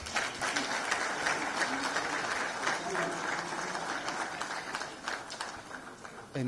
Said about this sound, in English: give a resounding round of applause